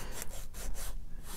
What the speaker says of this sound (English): So I need to get rid of that little edge here. So again, sanding is the way to go.